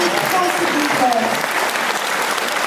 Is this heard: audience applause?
yes